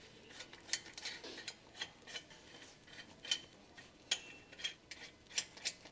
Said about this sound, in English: Use a 22mm deep socket with long extension and torque wrench to torque the mounting nut for the sway bar link and shock absorber